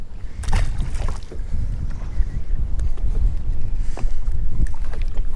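Gusty wind rumbles loudly against the microphone outdoors on the water while crappie fishing, rising and falling in surges with faint knocks and splashes beneath.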